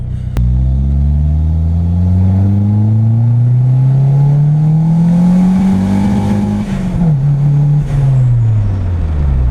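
A turbocharged D16 engine revs hard at high boost, its loud close drone climbing steadily in pitch, then stumbling with audible breakup and a brief dip before the rev holds and falls away.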